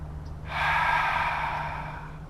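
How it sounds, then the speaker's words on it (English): One deep breath drawn in through the belly during an at-home lymphatic drainage exercise, a soft, airy rush lasting about two seconds, close and fairly quiet over a faint steady hum. "the belly breathing is so potent"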